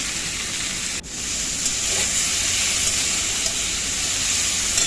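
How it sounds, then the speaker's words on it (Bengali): Small cut chicken pieces fry in a pan for a chicken and fig curry, giving a steady, even sizzle close by with no talking. "বেশ কিছুক্ষণ ধরে চিকেনটাকে ভেজে নিলাম।"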